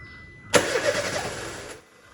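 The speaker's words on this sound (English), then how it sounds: "I started the engine" Peugeot 307 with a misfire, rough idle and low power, its upstream oxygen sensor removed, starts up close by: a sudden loud catch and roughly a second of cranking roar before the engine settles into a quieter idle.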